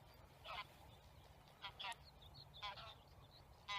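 Geese honking close by, several loud nasal calls in separate bursts over steady low background hum, with no talk.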